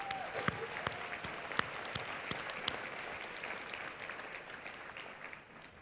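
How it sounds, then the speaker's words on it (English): A conference audience at a cruise industry keynote session breaks into a round of applause, a moderately distant wash of many hands clapping that slowly tapers off. "So if you can join me in a round of applause"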